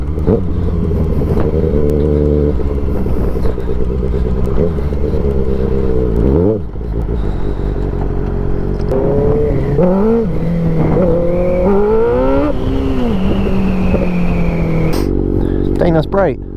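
A motorcycle spinning its rear tire under power in third gear, the engine screaming through sharp rev surges and gear changes with a brief drop in the middle, loud and close, with voices talking over it.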